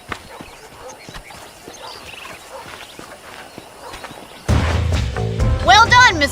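Horses from the Western game Red Dead Redemption, with soft clip-clop hoofbeats under a quiet first stretch, then louder snorts and whinnying close by as the scene shifts, with a voice speaking.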